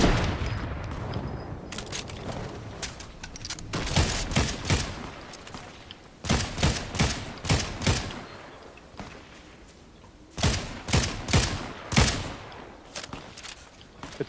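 Bursts of gunfire in the video game Fortnite: repeated sharp shots in quick clusters, some rapid volleys and scattered single cracks, loud and close throughout.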